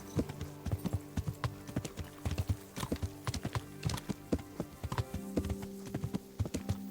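A horse's hooves clip-clop at a steady walking rhythm in the medieval video game Kingdom Come: Deliverance, crisp and close, over a low droning background.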